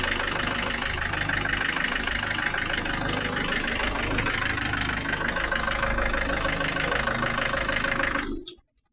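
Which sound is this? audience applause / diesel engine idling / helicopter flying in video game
diesel engine idling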